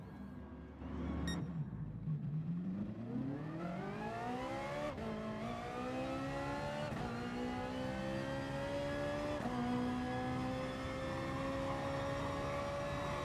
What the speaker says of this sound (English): we'll be able to tell by the engine noise